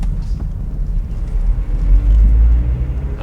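A low, steady Mazda MX-5 engine rumble with a deep burbling texture, swelling slightly louder toward the end, no voices.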